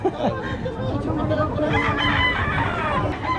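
A rooster crows amid a busy chicken market in Lemery, Batangas, with clucking fowl and people chattering close by throughout.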